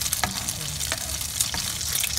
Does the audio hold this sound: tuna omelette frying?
yes